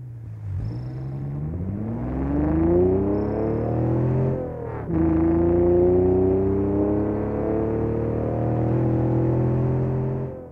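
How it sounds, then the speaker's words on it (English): BeamNG Drive D series engine in the video game starting and revving, a steady loud drone rising in pitch, dipping briefly at a gear change, then holding and climbing again without talk. "we're just going to start it up and drive for a second so you guys can hear this absolute sound"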